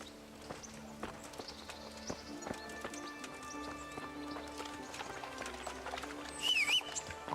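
Horse hooves clip-clop at a steady walking rhythm in the Kingdom Come Deliverance video game, fairly quiet and mixed with faint background game sounds.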